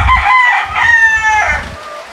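Rooster crowing with long harmonic calls over low clucking from hens and chickens in a backyard breeding flock, close and fairly loud, with no talk.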